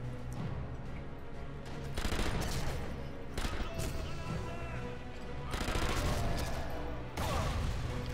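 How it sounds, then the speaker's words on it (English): Enemy gunfire in the video game Sniper Elite V2, sustained loud bursts of shots and impacts over a dense battle backdrop, swelling in several waves across the scene. "They're shooting from somewhere."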